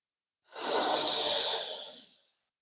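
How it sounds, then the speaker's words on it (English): A person takes one slow, deep breath, a soft airy exhale that swells and fades over about two seconds, heard up close in quiet surroundings. "Thank you for breathing with me."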